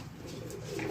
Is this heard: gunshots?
no